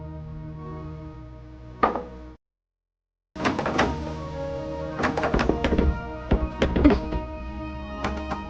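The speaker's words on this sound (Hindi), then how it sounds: "ये नितिन ने दरवाजा बाहर से बंद किया है क्या?" Someone tries a door that has been locked from outside, producing a run of dull thunks, knocks and rattles that come close and fairly loud after a short silence, with no talking.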